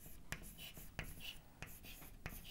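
Pen writing on paper at a desk, several soft scratchy strokes separated by short sharp taps where each stroke begins, quiet and close with a steady hiss underneath.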